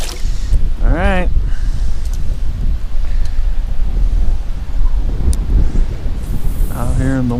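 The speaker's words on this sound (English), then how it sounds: "Out here in the wind." Constant wind buffets the microphone on a Pelican Bass Raider 10E bass boat out on the water, a steady rushing roar, while someone talks briefly at the start and again near the end.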